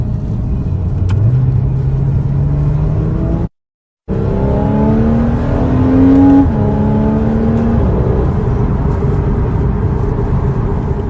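A Porsche Cayman 981 engine revs up with rising harmonic tones, cut briefly by a second of silence, then revs again and holds a steady loud roar.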